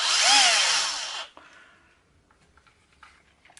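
Black+Decker BCD700S 18V cordless combi drill whining loudly at speed with rising pitch for just over a second, then cutting off abruptly into quiet handling clicks and taps.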